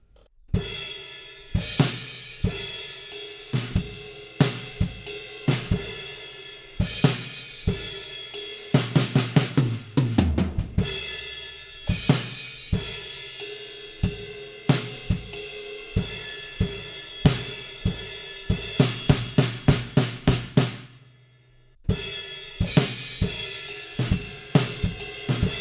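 A drum kit plays a halftime groove for a drum lesson, with punchy kick and snare hits under steady cymbals. Two dense fills sweep down the toms, and a brief gap falls near the end, all without speech.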